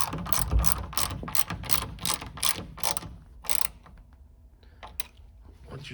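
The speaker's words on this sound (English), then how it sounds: "go ahead and tighten up your outer bolts" A ratchet wrench tightens the outer roof panel bolts on a late-1980s to 1996 Corvette, giving quick bursts of close metallic clicking in several strokes that fade out toward the end.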